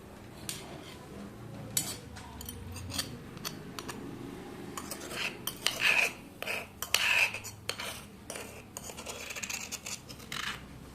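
A spoon scraping garlic paste out of a bowl, making quiet, close, irregular scrapes and light taps against the bowl over a soft background.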